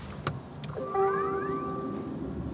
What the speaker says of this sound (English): There was a little beep to tell us that the car had switched on